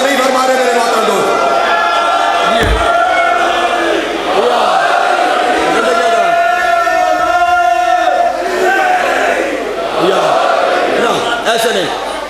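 A crowd chants a religious slogan in loud, overlapping voices at a religious lecture gathering, with sustained group shouting rising and falling in waves that fill the whole stretch.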